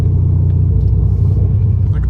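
A Dodge Scat Pack with dark-tinted windows cruises along, its engine a loud, steady low rumble heard from inside the cabin with no speech.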